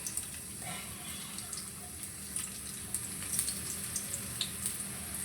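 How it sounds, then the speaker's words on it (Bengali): Chopped onion frying in hot white oil in a wok, a steady, moderately loud sizzle with faint crackles running continuously throughout. "তেলটা গরম হয়ে গিয়েছে, এখন দিয়ে দিচ্ছি পরিমাণ মতো পেঁয়াজ কুচি"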